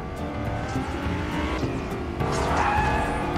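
A ghost car in the Fortnite video game drives past with a steady engine roar and tire noise, rising louder in the last second as it draws near, with no talking.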